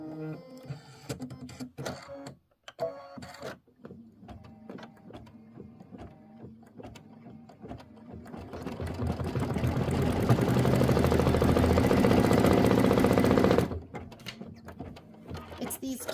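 A computerized embroidery machine stitches a quilt block, a steady mechanical whirring that builds into a loud, continuous hum before stopping abruptly, with softer start-stop clatter and brief talk before it.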